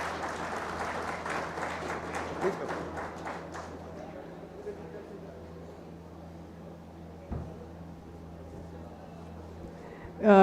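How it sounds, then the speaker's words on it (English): An audience at a hackathon valedictory ceremony claps in a burst of applause for about four seconds, then fades to a quiet room hum with a brief bump and a voice at the very end. "A great round of applause to them too."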